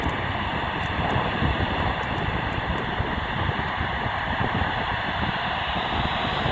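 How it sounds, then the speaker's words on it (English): Constant loud rumbling wind buffeting the microphone on a high, exposed spot, a dense roar that never lets up, with no voices. "Pretty windy up here, so excuse the wind noise."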